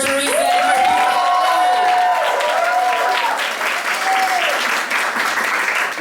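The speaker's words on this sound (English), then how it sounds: "Round of applause for Teresa." Applause and cheering from a bar audience at a drag show, loud sustained clapping with whoops and shouted voices rising above it, gradually thinning toward the end.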